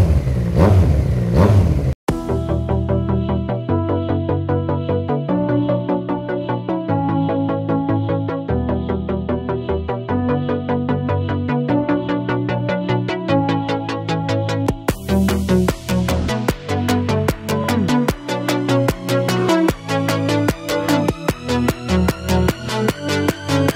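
A Yamaha MT-09 motorcycle engine is started, settling into a steady, loud idle with fluctuating harmonics before revving up and down in repeated blips near the end, with no speech.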